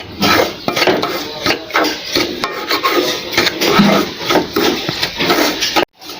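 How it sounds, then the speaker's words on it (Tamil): Dry semolina (rava) being stirred in ghee in a pan on a low flame for kesari, a continuous rough scraping and rasping of the spoon against the pan, close and fairly loud, ending abruptly. "நம்ம அடுப்பில் சிம்மில் வச்சுட்டு இந்த மாதிரி நீங்கள் கொஞ்சம் ட்ரையாக மிக்ஸ் பண்ணிக்கலாம்"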